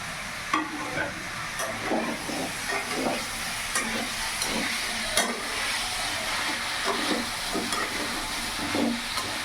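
Grated ginger is stirred into a sizzling pan for a vegetarian pumpkin ghonto, with repeated scraping strokes of a spoon over a steady frying hiss, close and fairly quiet.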